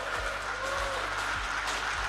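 Audience applause fills the room with steady, dense clapping for the President at an Indonesian public housing event, continuous and moderately loud throughout, with a low rhythmic thump underneath.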